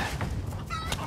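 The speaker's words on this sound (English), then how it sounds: "Chickens!" Chickens cluck in the Resident Evil Village video game, a short burst of fowl calls over a steady background bed with no talk.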